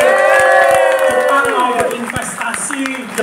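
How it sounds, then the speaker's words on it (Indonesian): An audience at a corporate product launch event applauds loudly, with dense clapping and cheering voices rising over the claps, close and lively throughout. "Tepuk tangan dong buat diri Anda sendiri."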